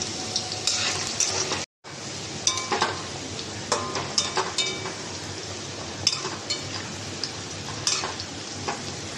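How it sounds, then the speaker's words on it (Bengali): Potatoes drop into hot oil and fry, a dense steady sizzle close by with repeated scraping stirs and light metallic clinks of a spoon against the pan, after one brief cut to silence. "তেলটা আমার গরম হয়ে গেছে, তো এখানে প্রথমে আমি আলুটা ছেড়ে দিচ্ছি।"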